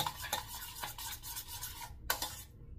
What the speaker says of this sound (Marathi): आता याला परत हलवतो